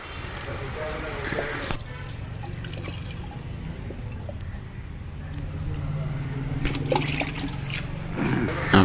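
Water poured into a car radiator to flush out muddy coolant, with trickling, splashing and dripping that comes and goes beneath someone talking nearby.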